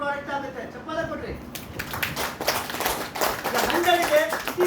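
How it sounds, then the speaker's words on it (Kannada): An audience claps through a speech at a DXN business event, a dense burst of applause swelling after a quieter opening, with a voice talking over and around it. "ಚಪ್ಪಾಳೆ ಕೊಟ್ರಿ"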